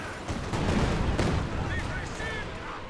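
A mortar pit lays down a barrage in a real-time strategy game match, producing rumbling, overlapping blasts and a dense, sustained roar, with a commentator's voice running over the top.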